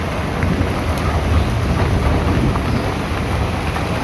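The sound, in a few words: heavy rain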